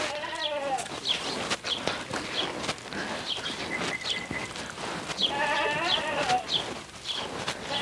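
Goats bleat at a rural home, with one wavering call at the start and another pair of bleats later. Each sounds fairly close over a busy background of shuffling and small farmyard noises.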